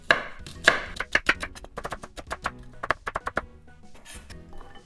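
Kitchen knife chopping food into small dice on a cutting board for Japanese marinated eggs, a quick run of sharp, close taps in uneven rhythm that thins out near the end.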